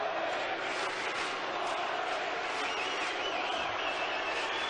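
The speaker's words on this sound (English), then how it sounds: "The Boris chorus from the crowd of Germans that follow him almost wherever he plays, and then the boos from the local crowd" Dense, loud crowd roar at a 1989 Masters tennis semifinal, Becker against McEnroe, mixing a German fans' chant for Boris with booing from the local crowd, sustained and unbroken throughout.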